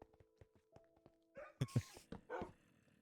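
Dogs barking in the Minecraft video game, several short sharp yips and barks in quick succession over thumps and soft game sounds, fairly quiet overall.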